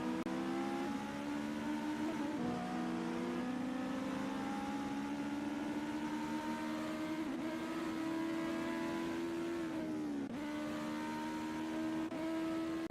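A race car engine drones steadily on track in a sim racing game, holding a sustained tonal whine that dips briefly with gear shifts or lift-offs around corners before climbing again, close and continuous with no voices.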